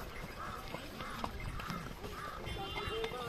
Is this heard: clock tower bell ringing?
no